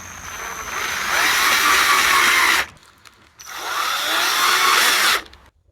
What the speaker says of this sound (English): I'm just now going to put 2 tiny holes in this piece just to guide the screws in.